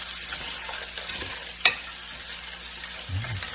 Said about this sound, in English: Get that all mixed in.